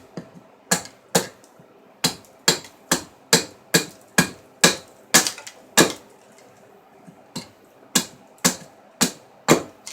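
Sharp, hard axe strikes bite into maple wood being roughed out for a bowl scraper, about twenty close, loud blows in a fairly steady rhythm with a brief pause midway.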